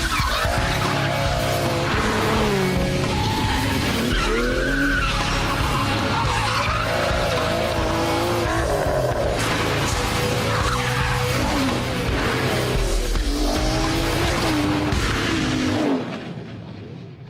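Aston Martin DBS driven hard, its engine revving and tires squealing through corners in a loud, continuous rush that cuts off at the end.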